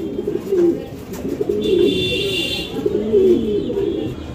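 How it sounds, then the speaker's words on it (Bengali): A pair of Shoukin pigeons coo up close and loud, their rolling, throaty calls repeating in overlapping waves, with a faint high buzzing tone in the background. "এখানে আরো এক জোড়া কবুতর আছে"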